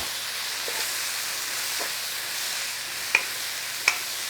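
Chilli and garlic fry in a pan with a soft, steady sizzle and hiss, broken by two sharp utensil taps near the end.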